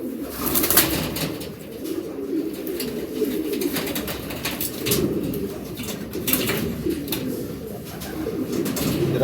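Racing pigeons coo continuously in low, throaty bursts, several birds overlapping close by, with occasional soft rustling and flutters.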